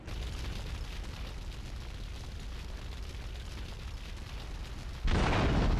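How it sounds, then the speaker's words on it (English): Explosion in Grand Theft Auto III Definitive Edition gameplay: a steady roar of rumbling fire and debris, then a sudden louder burst near the end, with no talking. "Explosions are epic, we gotta watch it."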